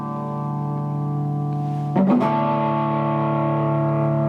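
A sustained distorted electric guitar tone rings steadily, with a brief burst of extra grit and shifting pitch partway through, then continues buzzing.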